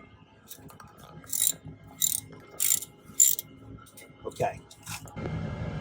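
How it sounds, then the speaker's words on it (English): Ratchet wrench clicking while loosening a brake bolt on a 2010 Honda Accord, a handful of short metallic ratcheting bursts in a steady rhythm, close up, ending in a low rumble. "And hold the ratchet, and then just move this other wrench, loosen this up."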